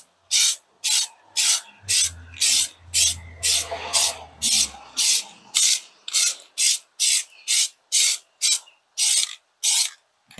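AUTODIP vinyl paint sprayed from an aerosol can onto a car wheel in steady, evenly spaced bursts of close, loud hissing, about twenty short sprays in a row with brief pauses between them.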